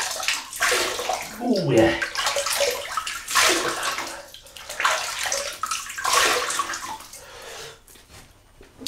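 Water splashing onto a face at a running basin before a shave, with repeated bursts of sloshing and running water, loud and close, and a brief spoken remark partway through.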